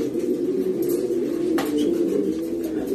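A breeding stud cock pigeon coos steadily and close by in a Cuban loft in Sagua, a low, continuous rolling warble with no voices.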